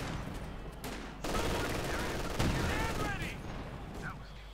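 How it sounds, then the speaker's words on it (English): Mortar fire and battle noise from the strategy game Company of Heroes 2 crackle in dense, rapid bursts of gunfire and booms, loud and continuous throughout. "Mortar doing what he can here."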